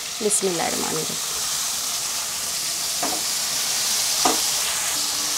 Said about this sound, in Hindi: अब साथ ही में हरी प्याज जो काट के रखी है वो डाल देते हैं